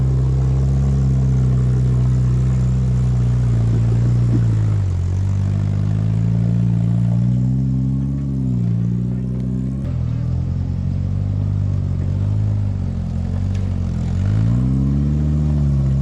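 A Pathmaker rock buggy crawls along a trail, its engine droning loud and near with repeated swells of revving and occasional clatter, heard alone without talk.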